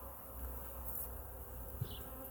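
A steady low buzz of bees hums continuously throughout, moderately quiet and constant, with no voices; many bees are drowning in a feeder.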